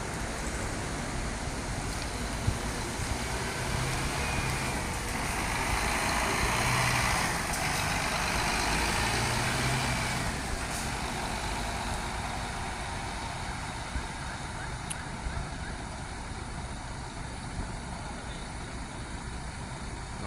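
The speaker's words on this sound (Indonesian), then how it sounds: "bus Makmur SIG 21 kalau memasuki terminal Akap Pekanbaru ya." A Makmur bus engine idles and rumbles steadily as it enters the AKAP bus terminal in Pekanbaru, amid broad traffic noise, fairly distant, with faint clanks and no talking.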